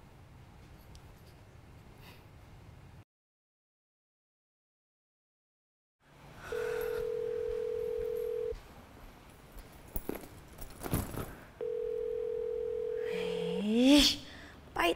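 An unanswered phone call plays two long, steady ringback tones separated by a pause, each lasting about two seconds, amid brief rustling and handling noise.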